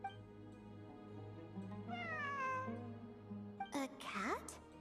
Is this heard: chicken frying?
no